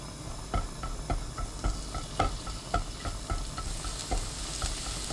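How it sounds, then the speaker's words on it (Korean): Minced garlic fries in olive oil over high heat in a pan, sizzling steadily close up, with repeated sharp ticks and scrapes from stirring and no talk. "달구지 않은 팬에 올리브유 2큰술, 다진 마늘 반 큰술 넣고 센 불로 볶아주세요"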